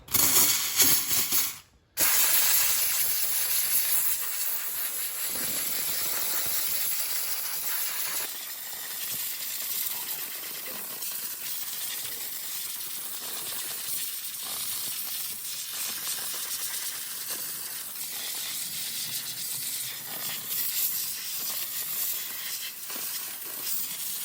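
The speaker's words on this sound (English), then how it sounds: "We'll just use the steamer to hose them off." Steam cleaner spraying Brembo brake calipers from a 2013 Ford Mustang Boss 302, a steady loud hiss running throughout with a brief cutoff near the start, then continuing evenly.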